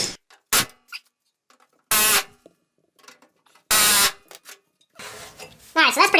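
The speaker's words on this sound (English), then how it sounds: "First thing I'm going to try is using the handy dandy air chisel and seeing if I can't just go up through here and separate the two." Pneumatic air chisel hammering at spot welds on a Mustang quarter panel, in several short loud bursts separated by quiet gaps, with a final rattling burst at the end.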